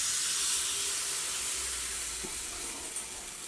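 Rice batter for palappam, made without coconut milk, hits a hot pan and lets out a steady close hiss and sizzle that eases slightly after a couple of seconds.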